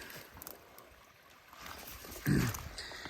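A creek flows through a deep dolomite channel, a soft continuous gurgle and trickle with a brief louder splash near the end, heard from close by with no talking.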